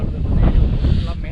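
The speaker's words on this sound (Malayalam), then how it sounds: "നല്ല രീതിയിൽ കാറ്റ് അടിച്ചു കയറുന്നുണ്ട്." Strong wind gusts against the microphone at a high viewpoint over Idukki Dam, a loud continuous rumbling roar with a voice faintly underneath.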